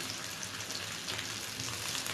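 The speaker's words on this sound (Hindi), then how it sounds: "अब मैं इसे दूसरे साइड से फ्राई कर लूँगी।" Potato seekh kababs fry in a pan with a steady, close sizzle and crackle that holds evenly throughout, with no talking.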